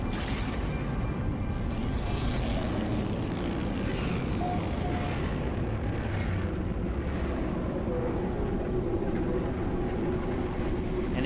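In No Man's Sky, a freighter spaceship arrives as a broad, steady engine roar, like a large aircraft. It keeps a constant level with faint tonal hums on top.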